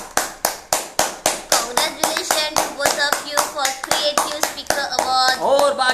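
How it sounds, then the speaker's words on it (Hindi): Hands clapping sharply and steadily for a speaking competition award winner, a fairly close, loud run of distinct claps that speeds into a denser burst toward the end. "तो जोरदार तालियां हो जाए गुलशन कुमार के लिए।"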